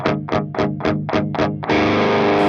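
An electric guitar runs through an Airis Effects Nebula Advanced Overdrive pedal with its gain raised on the symmetrical setting, playing six quick chugged notes and then a sustained distorted chord, loud and up close.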